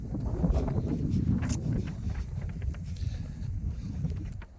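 Wind gusting outdoors at a rifle shooting range, a low continuous rumbling buffet across the microphone, loud and steady throughout with no talk.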